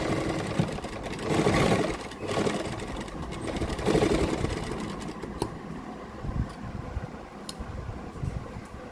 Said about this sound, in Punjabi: ਇੱਥੇ ਮੋਢੇ ਵਾਲੀ ਸਾਈਡ ਆਪਾਂ ਡਬਲ ਸਲਾਈ ਕਰ ਦਾਂਗੇ